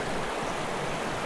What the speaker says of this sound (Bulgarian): Преливника